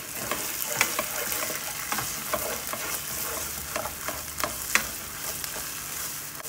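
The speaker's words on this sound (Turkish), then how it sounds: "Salçayı iyice bir kavuracağız önce" A heaped spoonful of tomato paste sautéed in a pot, frying with a constant sizzle while a spoon scrapes and stirs in repeated sharp strokes, close up with no voices.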